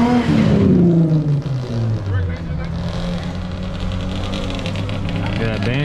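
A Yamaha Banshee two-stroke quad revs at a street racing event, its buzzing engine note rising and falling in pitch while a crowd and other engines fill the background.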